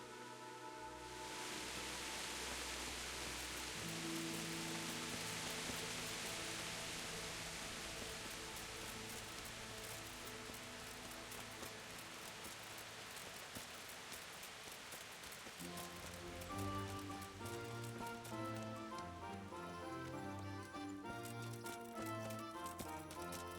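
Steady rain hisses through a medieval town in the video game Kingdom Come: Deliverance, a dense continuous wash under a soft game music score with plucked and sustained tones.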